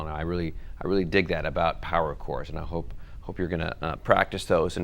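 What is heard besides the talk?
No everyday noises stand out.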